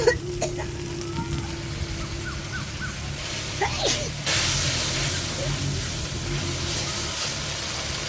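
Bata fish frying in a pan at home, a steady soft sizzle and hiss running throughout, with faint background noises and a voice talking over it.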